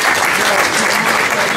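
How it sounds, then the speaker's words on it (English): Dense, steady applause from an audience right after a stage performance at an event in Goa, India, loud and continuous throughout with no pauses. "can we have a big round of applause for Natalie and Chantan, please?"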